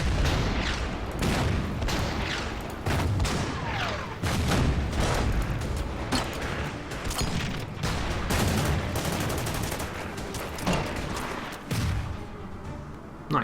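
Artillery fire in the World War II strategy game Order of Battle: a steady barrage of booming blasts and crackling shots, loud and dense, with several heavier thumps standing out over about thirteen seconds.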